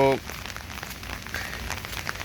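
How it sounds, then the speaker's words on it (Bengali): Heavy village downpour pouring steadily since the night before, a dense patter of drops on surfaces all through, with a brief voice at the very start. "আজকে গতকাল রাত থেকে মুষলধারে বৃষ্টি"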